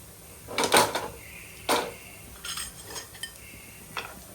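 Appe lifted from the appe pan onto a plate, heard as a few separate metallic scrapes and clinks of cutlery against cookware, quiet and close with pauses between them.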